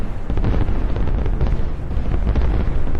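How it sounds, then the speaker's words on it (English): Rapid overlapping explosions as Javelin missiles and cluster munitions strike a column of Russian tanks, a dense, continuous rumbling barrage of booms and bursts with no pauses. "giving us a spectacular display of explosions"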